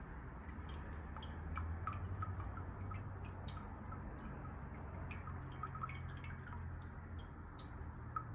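Water drips out through the drainage holes of a succulent pot in soft, quick, irregular ticks. A low steady hum runs underneath the drips, and the whole sound is faint.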